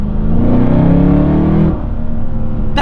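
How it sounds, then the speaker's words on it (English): Supercharged LSA V8 in an HSV GTSR wagon, about 800 hp, rising under a light throttle dab at 3,000 rpm in second gear. The engine note builds steadily and loud, then eases off as the throttle lifts. "If I just lightly dab on the throttle"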